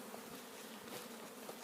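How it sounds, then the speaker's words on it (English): A bee swarm drones in the open air outside a garage workspace below a house, a faint, steady buzzing hum of many insects that continues without a break and with no voices. "There's bees all over the air."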